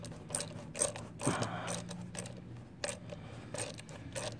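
A ratchet fitted with a 10 millimeter socket works on a GY6 scooter, giving quick bursts of close metallic clicking spaced by short pauses and a brief clank.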